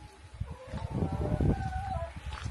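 Hens cluck and murmur softly in a henhouse, with low overlapping chatter and a few brief higher calls mid-way, close by under steady background noise.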